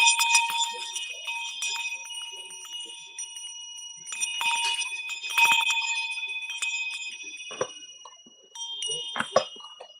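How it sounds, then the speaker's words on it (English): A bell rung in memory of school shooting victims, several bright ringing strikes with lingering tones and pauses between them, fairly close and clear. "let's end this show off ringing the bell for the ones lost"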